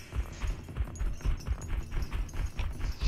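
Horse galloping on the Livik map in PUBG, a close, rhythmic run of low thudding hoofbeats repeating steadily throughout.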